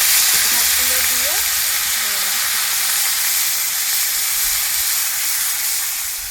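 Garlic paste, ginger-cumin-chili paste and tomato paste hit hot oil outdoors for a village-style loitta fish dish, giving a loud, dense, continuous sizzle and hiss that fades slightly at the end, with a brief faint voice early on.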